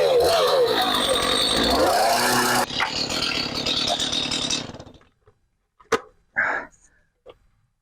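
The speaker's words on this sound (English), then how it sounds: "Chainsaw will do the job, quick and simple." Chainsaw cutting wooden planks for worm bin legs, a loud, rough, buzzing whine for about five seconds that cuts off, followed by brief knocks and short sounds in the quiet.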